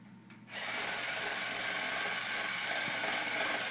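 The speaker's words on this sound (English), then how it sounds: "Push the drill down more." A power drill drives a screw while a car is being taken apart, starting after a brief pause and then whirring steadily and loudly with a grinding, ratcheting mechanical texture to the end.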